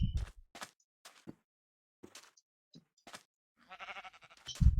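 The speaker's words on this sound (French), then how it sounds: "Il y a des moutons." Several short sheep bleats in a video game, spaced apart over near silence, with a few soft thuds and a louder bleat near the end.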